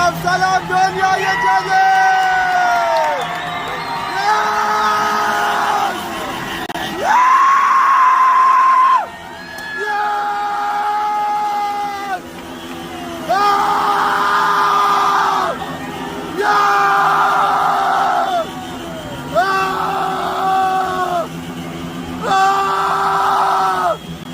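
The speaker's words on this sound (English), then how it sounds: "Crowds swarming the monument, pulling it to the ground while people cheer, chanting freedom slogans and lighting fireworks" Crowd cheering, screaming and yelling as a statue of the Ayatollah is pulled down, with loud sustained cries and whoops rising in repeated surges, some voices chanting slogans.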